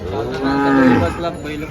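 A single low moo from a bullock lasting about a second, clear and fairly close against a steady outdoor background hum at a bullock market in Dhule.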